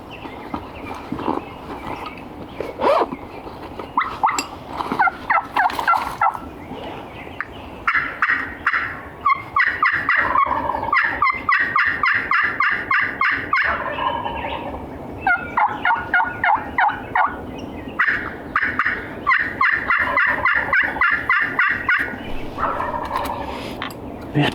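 Wild turkey gobbling over and over during a midday turkey hunt, loud rattling gobbles in quick repeated bursts, some close and some echoing farther off, with no talking.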